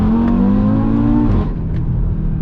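A 570hp Audi RS3's engine blips and revs sharply on a downshift, a loud, close rising snarl that drops off into a lower steady drone with a couple of brief pops, no voices.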